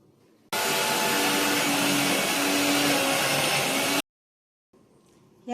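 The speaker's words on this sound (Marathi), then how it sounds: "आता मी थोडं पाणी घातलंय म्हणजे पटकन वाटलं जाईल।" A kitchen mixer grinder roars steadily for several seconds, then cuts off abruptly. It is grinding a raw masala of unroasted onion and coconut with a little water added.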